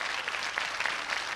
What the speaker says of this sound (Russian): А только ваши аплодисменты могут скрасить горечь поражения.